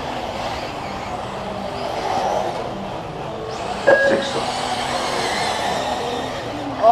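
A car passes with a rising, broad whoosh of tyres and engine over steady road rumble on a ride filmed with a GoPro camera, and a brief voice is heard.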